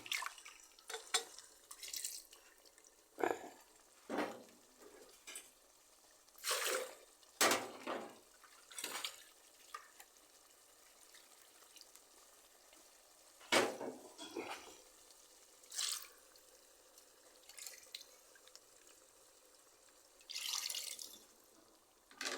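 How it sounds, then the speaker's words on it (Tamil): Water is poured into a pot of chicken liver curry in a home kitchen, heard as faint, intermittent splashy gushes and drips with quiet gaps between them. "இப்போ தண்ணி கொஞ்சம் ஊற்றிக்கலாம்"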